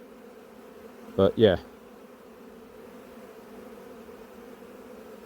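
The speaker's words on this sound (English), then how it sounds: "All these bees that I've shaken out will just go back in there." Honeybees shaken out of a hive box hum in a steady, close swarm drone that continues throughout, briefly interrupted by a short spoken remark.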